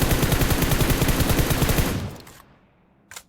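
Burst of automatic gunfire in PUBG Mobile, a loud rapid volley of shots for about two seconds, then an abrupt fade and a brief faint pop near the end.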